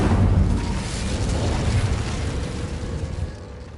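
A roaring, whooshing burst of flame from the Incendio fire spell in Hogwarts Legacy, loud and close at first and then steadily fading into a broad rumbling hiss.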